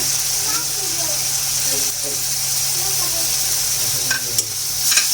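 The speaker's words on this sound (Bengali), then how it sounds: "প্রথমে দিয়ে দিচ্ছি আদা আর রসুন বাটা, ধনিয়া গুঁড়া বাটা, শুকনা মরিচের গুঁড়া, হলুদ গুঁড়া" Ginger-garlic paste with ground coriander, dried chili powder and turmeric sizzles in a pan for papaya and egg bhuna, a close, continuous crackle broken by scraping stirs and a few louder clatters toward the end.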